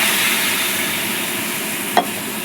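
Spice masala sizzles with a dense, steady hiss after a little water goes in, and one brief clink or splash stands out near the end.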